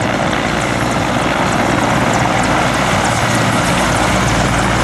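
Mi-17 military helicopter roaring close by with steady rotor thump and loud turbine whine, constant and unbroken throughout, no voices.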